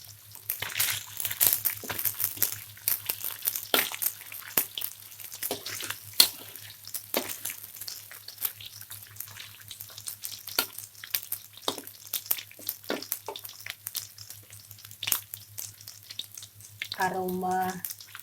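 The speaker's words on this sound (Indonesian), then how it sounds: "Aroma kembungnya digoreng sudah keluar ya" Mackerel sizzling and crackling steadily in a frying pan with bay leaves, continuous spitting pops near and clear, with a low steady hum beneath and a brief voice near the end.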